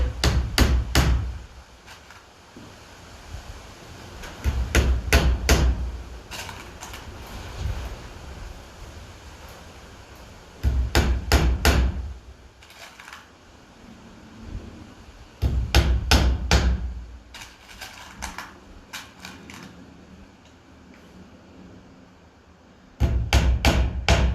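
Finish nails, 1.5 inch long, are hammered into 3/4 inch wood pieces while building an insect hotel, in loud close bursts of rapid blows separated by quieter pauses.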